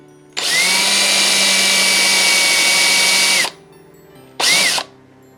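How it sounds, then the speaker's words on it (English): Power drill boring handle holes into a wooden board: one long steady whine of about three seconds, then a short second burst, loud and close with no talking. "go ahead and mark the spots where we're going to want our handles to go and go ahead and pre-drill those holes"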